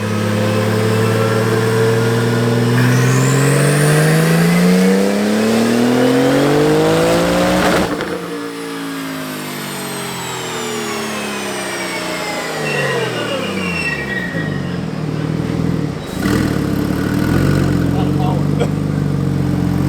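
Porsche 911 Turbo S with big turbos and a custom pump-gas tune revving hard on a dyno, loud close engine sweeping up and down in pitch with tire spin and excited voices over it.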